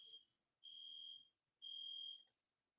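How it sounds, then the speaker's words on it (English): A building fire alarm sounds in steady, shrill electronic beeps, with two long tones following a short one and quiet gaps between them, picked up at a moderate level indoors. "there's a fire alarm going off behind me in the building"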